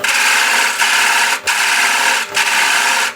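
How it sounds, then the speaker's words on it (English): Spindle gouge cutting wood on a lathe, thinning a turned piece: a steady, loud, broadband shaving hiss runs throughout, broken by two brief dips where the tool lifts off. "Using spindle gouge."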